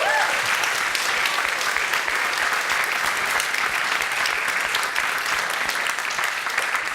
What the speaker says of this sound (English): So I would like another round of applause for you for what you did.